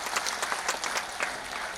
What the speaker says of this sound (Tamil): இந்த கைத்தட்டல் சாதாரணமான விஷயம் இல்லை